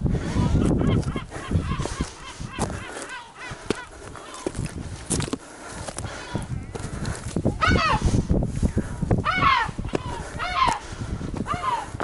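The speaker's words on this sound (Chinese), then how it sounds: "小心海鸥，小心海鸥，它马上真的会啄人。" Seagulls call in rising, squawking cries on Frioul island off Marseille, with several bursts in the latter half, mixed with people talking nearby.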